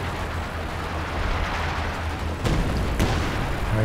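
Artillery barrage in Company of Heroes 2, a steady low rumble of distant shelling with a couple of sharper impacts breaking through near the end, continuous and moderately loud.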